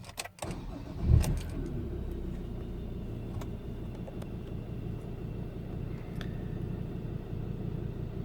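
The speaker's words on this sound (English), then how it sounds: "I think now is time you go and start your truck." A diesel Ford Ranger T6 PX2 pickup cranks briefly, fires up with a loud surge, then settles into a steady, even idle after its fuel filter has been replaced.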